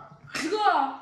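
A single short sneeze bursts out abruptly, close and fairly loud, with a brief spoken word just before it.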